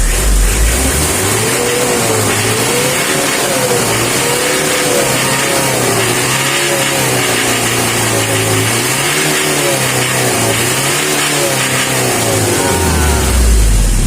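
Mitsubishi L300 van engine being revved after a fix for hard hot starting, loud and close, rising and falling through repeated throttle blips over a steady running drone, no talking.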